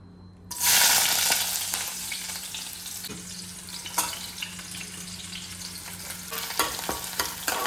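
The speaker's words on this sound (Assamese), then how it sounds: "দালিখিনি ধুনীয়াকৈ তেল মাৰি লওঁ" Loud, steady sizzling as dal hits hot oil and keeps frying, with occasional stirring scrapes and clicks, close up and without talk.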